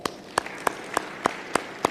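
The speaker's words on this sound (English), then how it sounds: "Please, can we give them a round of applause?" Claps at a provincial research colloquium, heard as a sparse run of about seven sharp, evenly spaced hand claps at moderate volume rather than a dense wash of applause.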